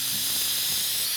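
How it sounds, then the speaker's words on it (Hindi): A pressure cooker whistle vents steam in a loud, sustained hiss that fills the short moment evenly, with no talk over it. "7वीं सीटी आने वाली है।"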